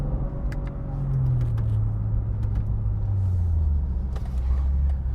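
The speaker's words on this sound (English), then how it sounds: "That is hanging in second gear." A BMW M2 G87 engine holds a steady low drone while the car lingers in second gear on a sunny London street, its tone slowly sliding downward as the revs fall, loud and close with no talking.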